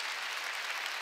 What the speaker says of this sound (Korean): 박수 치려면 세게 치고 말려